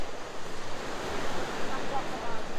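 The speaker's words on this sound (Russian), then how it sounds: "Кстати, да, сегодня же волны." Sea waves roll onto the shore in Batumi, a continuous close surf wash with rhythmic swells, mixed with gusty wind buffeting the microphone.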